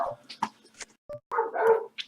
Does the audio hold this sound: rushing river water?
no